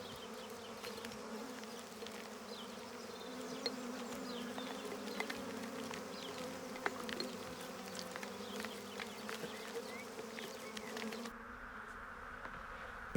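Honeybees buzzing in a dense, steady drone, a swarm of many wings droning continuously close by with no voices.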